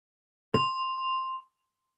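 A single meditation gong is struck once, a sharp metallic onset ringing into a clear sustained tone that fades after about a second in otherwise silent surroundings.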